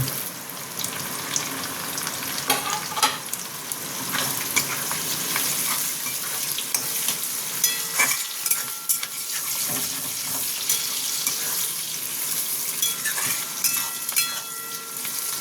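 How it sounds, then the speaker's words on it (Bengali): Chopped tomatoes fry in hot oil in a pan for chili chicken, sizzling loudly up close as a spatula stirs and scrapes them in irregular bursts, with no one speaking. "এইগুলোকে একটু ভেজে নিই।"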